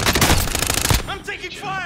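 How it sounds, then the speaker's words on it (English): Call of Duty Warzone gunfire: a rapid burst of automatic shots for about a second, loud and close, followed by a brief chirping tail. "I'm taking fire!"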